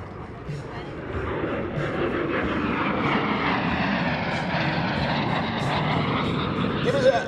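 An Aero L-39 Albatross jet trainer flies past at an airshow, its engine a broad, steady roar that builds slowly and holds loud over several seconds, with a faint announcer's voice underneath.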